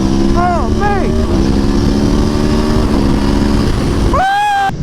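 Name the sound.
Aprilia motorcycle stock exhaust at high RPM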